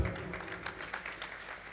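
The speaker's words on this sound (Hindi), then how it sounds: "बिल्कुल तालियों के साथ।" Audience applause at a Hindi musical evening presentation, a soft, steady spread of clapping lasting under two seconds, somewhat distant and faint with no talk over it.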